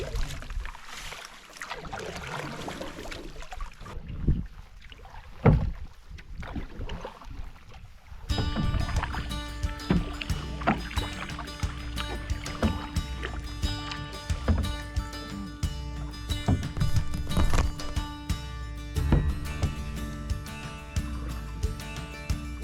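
Paddle strokes from a small canoe on a quiet northern lake, soft splashes and drips close by, with light wind noise and water sounds running steadily throughout.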